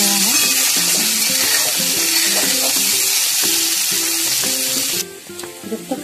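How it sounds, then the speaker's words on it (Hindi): Boiled potatoes fry in a pan with a steady, close sizzle, while tonal music plays throughout; the sizzle thins out toward the end. "जब तक आलू भून रहा है तब तक इसका हम मसाला तैयार कर लेंगे।"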